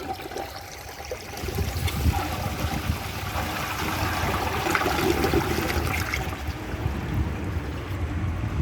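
Water rushes through a 2003 Mancesa Acuacer toilet during a flush, starting as a low trickle, then swelling into a loud, steady gush that continues without pause.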